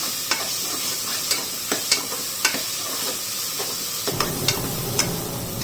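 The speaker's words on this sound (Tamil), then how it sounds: "இப்போ நம்ம வந்து தக்காளியை சேர்த்துக்கலாம்." Chopped tomatoes fry in a pan with vegetables for a vegetable pulao, a steady close sizzle broken by regular sharp clicks of a spatula stirring against the metal.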